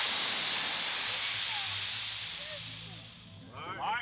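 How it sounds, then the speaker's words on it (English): Nitrous oxide purge on a 2,600hp street race car, a loud close hiss that fades out over about three seconds, followed by faint background voices. "I'm going to purge it."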